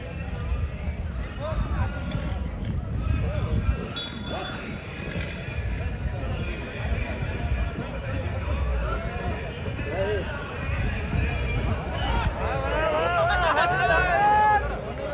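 Stallions move around a show ring at a horse competition, their hoofbeats and snorts faint beneath a loud announcer and constant crowd chatter.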